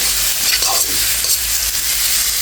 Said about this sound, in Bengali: তেলটা দিয়ে এখন একটু নেড়ে ছেড়ে নিচ্ছি।